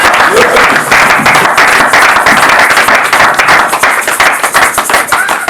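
A church congregation claps and applauds the Lord, loud dense clapping from a crowd that continues steadily, with voices mixed in.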